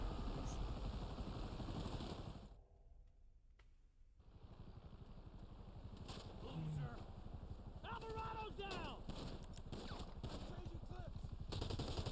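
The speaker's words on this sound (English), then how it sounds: "These helicopters are just gonna keep coming back, too." Helicopter rotors thump continuously in a Grand Theft Auto Online soundscape, with rapid gunfire bursts and a short drop to near silence partway through.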